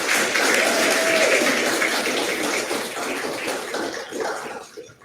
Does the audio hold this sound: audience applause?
yes